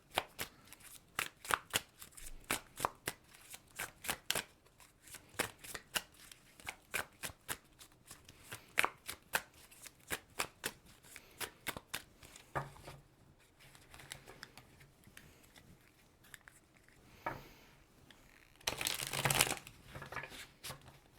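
A tarot card deck is shuffled close up, giving rapid crisp riffles and soft taps in irregular bursts, with a denser rustle near the end.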